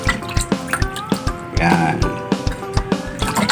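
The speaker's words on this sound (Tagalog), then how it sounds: "hugasan natin siya ng hugas bigas" Stingray being rinsed in rice water before cooking as adobo in coconut milk, with steady dripping and splashing water under a close voice speaking between the splashes.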